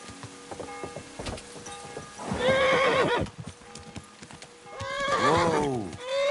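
A horse in Kingdom Come: Deliverance II, with a soft clop of hooves and snorts followed by two loud, drawn-out neighs. Each whinny rises and then falls away, and a voice speaks briefly between them.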